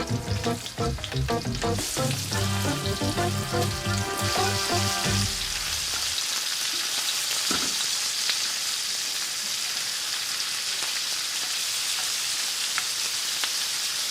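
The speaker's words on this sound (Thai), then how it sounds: "ทอดกุ้งจนสวยงามดี" Shrimp fry in hot oil with garlic and chili, giving a dense, steady sizzle and crackle close up, at first under tonal background music and then alone.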